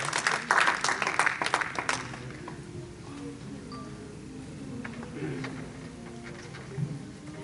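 An audience at an Urdu Academy evening welcomes a speaker with a burst of clapping that is loud for about two seconds. It then fades into scattered claps and room murmur, with faint voices underneath.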